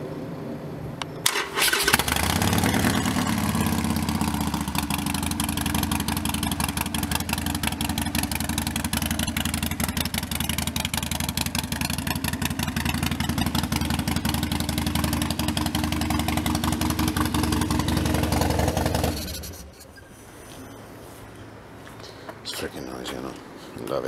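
A Harley Sportster 48 motorcycle engine starts and runs at a loud, close, steady idle with a rough lumpy beat for nearly twenty seconds, then cuts off abruptly, leaving quiet.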